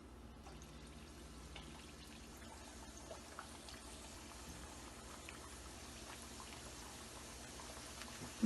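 Khasta papri dough fries in hot oil with a faint, steady, even bubbling sizzle that continues throughout at low volume.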